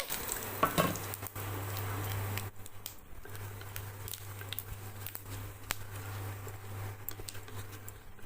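Quiet frying of dry chillies and cumin in a wok, a soft continuous sizzle with scattered crackles and pops, with a low steady hum running underneath.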